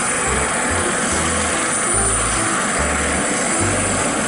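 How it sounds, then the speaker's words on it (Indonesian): A constant whirring, buzzing drone like a small toy helicopter's rotor, loud and close, with low pulsing thumps underneath. "di sini ada pesawat helikopter"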